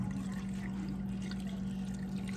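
Beef broth, about a cup and a half, poured over steak and bell pepper in a crockpot while making pepper steak, giving a steady liquid trickle and splash that runs close and alone for the whole moment.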